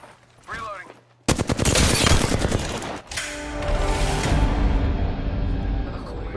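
Sustained rapid automatic fire from a Flatline rifle in a video game firefight, loud and close, starting abruptly after a brief quiet moment with faint sounds, pausing briefly, then resuming with ringing reverberant tails.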